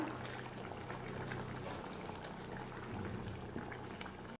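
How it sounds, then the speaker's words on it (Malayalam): Steady bubbling and simmering of thick egg curry gravy with boiled eggs in a pot, close by and continuous, with no voices. "നമ്മുടെ ഗ്രേവി തിളച്ച് വന്നിട്ടുണ്ട്"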